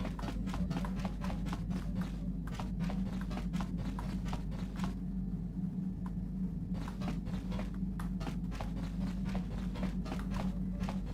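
Soft footsteps in a dark temple in the game Star Wars: Knights of the Old Republic, a steady patter of light, quick steps with a short pause partway, over a low ambient hum.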